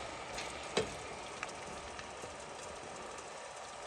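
Mutton pieces sizzle and fry in a pan while being bhuna-roasted for aloo gosht, a soft continuous crackle with a sharp clink or pop near the start and a few quieter knocks, no talking.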